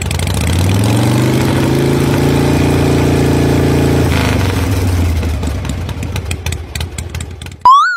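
A motorcycle engine idles loudly and close with a steady low throb for several seconds, then sputters unevenly and cuts out, ending in a brief high squeal.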